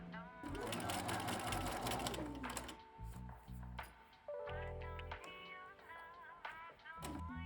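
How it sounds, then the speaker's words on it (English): A sewing machine stitches the neckline of a garment yoke, running in a rapid continuous whir, pausing briefly, then resuming in shorter runs, close and clear with no speech. "we will continue by sewing the neckline of your yoke"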